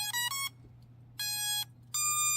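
Holy Stone HS600 drone beeping as its battery powers on: three clear electronic tones, a quick double beep then two longer ones, close by over a low background hum.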